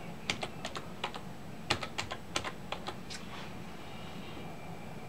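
Computer keyboard keys are tapped out in short spaced clusters, crisp individual clicks close by over a faint background hum, with the typing trailing off toward the end.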